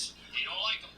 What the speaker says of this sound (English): No, that was my phone.